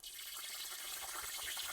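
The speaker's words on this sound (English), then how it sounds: "Turn the steam dial to the steam icon to rinse out the steam wand." Breville Barista Express steam wand being rinsed, a close, steady hiss of spraying water and steam with a bright, rushing texture and no talk.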